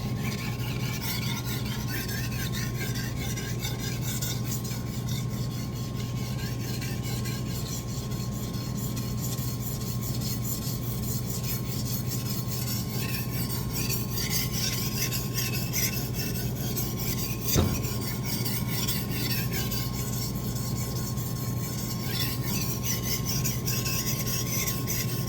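A knife is sharpened on a grinder, giving a continuous rasping, scraping whine with a steady motor hum underneath, unbroken and fairly loud for the whole stretch, with one brief sharp click partway through.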